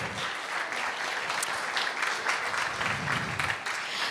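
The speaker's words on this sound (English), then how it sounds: "A big round of applause for Pink Sheep Media" Audience applause after an Open Cinema screening and discussion, continuous even clapping from a room of people with a few faint whoops mixed in.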